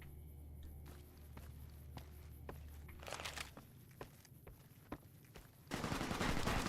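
Enemy gunfire in Fallout: New Vegas arrives as scattered sharp shots at moderate distance, spaced irregularly, with crunchy footsteps and a steady hum underneath, ending in a louder burst of noisy fire.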